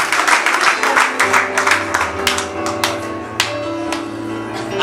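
Church congregation applauding, dense clapping with scattered sharper claps, a tonal hum and voices running underneath, steady throughout.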